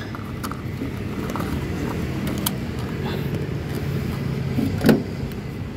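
A Toyota Hilux engine with a low-power fault, just treated with Xado additive, runs as a steady low rumble throughout, with a brief louder knock near the end.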